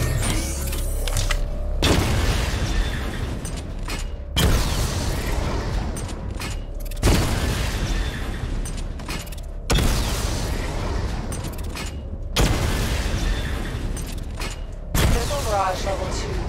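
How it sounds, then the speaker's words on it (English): A missile barrage fires in the video game Batman: Arkham Knight, loud, close booming bursts repeating at a steady rhythm, roughly every two and a half seconds. "Charge the missile barrage to level 2 to destroy up to 4 targets at once."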